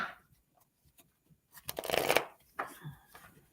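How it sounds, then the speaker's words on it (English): Tarot cards are shuffled by hand, a dense riffling burst in the middle with softer card handling before and after, close and alone. "Let's just pull some cards for you"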